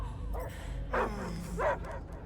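Dog in the Guardians of the Galaxy video game barking in three short, yelping bursts spaced about half a second apart, fairly close and clear over a quiet low rumble.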